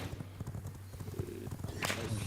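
A horse's hooves clip-clop at a steady walking rhythm in the video game V Rising, close and clear, with faint voices in the background.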